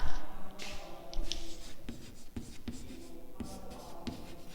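Someone writes on a board during a physics lesson, producing a run of quick scratchy strokes and taps with brief pauses between them. The strokes are fairly close, over a noisy room background.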